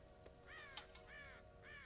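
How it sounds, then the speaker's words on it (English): Several crow caws in the Red Dead Redemption video game, coming in three or four harsh bursts over a steady low background hum, with no talk. "God damn crows!"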